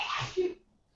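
A single sharp sneeze, loud and close, that bursts out and fades in under half a second, leaving near silence afterward.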